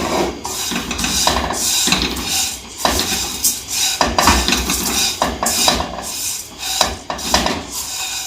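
A utensil scrapes and rustles dry vermicelli strands against a metal pan over low heat in quick, irregular strokes as they roast golden, loud and close with no talking.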